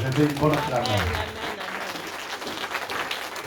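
A church congregation cries out in acclamation and claps, a loud mass of mixed voices and hand claps that swells at first and then eases into a softer, steady crowd roar.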